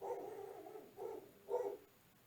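A dog barks three times, medium-close, the first a drawn-out run of yaps, then two shorter barks after brief pauses, with quiet room tone between.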